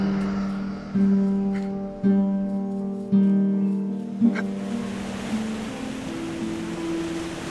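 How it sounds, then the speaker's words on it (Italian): Waterfalls in the video game Apotheon make a steady broadband rush that swells in halfway through and continues under sustained tonal music notes. "Che figata le cascate"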